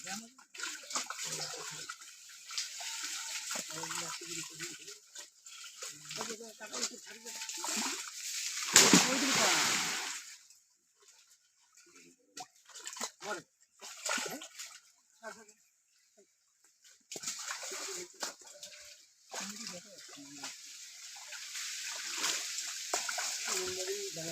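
A fishing net is thrown into water with a loud splash midway through, set among quieter sloshing and the voices of people talking nearby.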